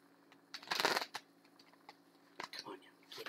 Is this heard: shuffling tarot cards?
yes